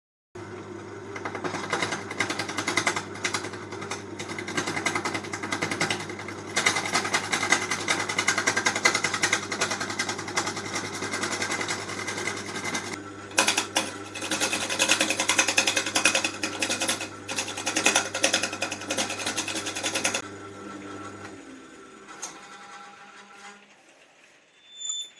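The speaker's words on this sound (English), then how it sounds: "I'm going to smooth out the resin down to the wood surface because at the moment it's a bit raised from the surface of the cylinder" A wood lathe spins a wooden milk churn cylinder while resin is smoothed back down to the wood surface, giving a steady, close, continuous droning whir with rough scraping texture that carries on before stopping near the end.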